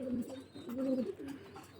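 High-flyer pigeons coo softly nearby, a few low, throaty rolling calls in quick succession with no talking.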